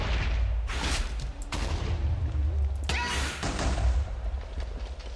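Explosions and gunfire-like blasts in a Minecraft modpack game, several loud booming bursts spread across a few seconds with a whooshing sweep between them.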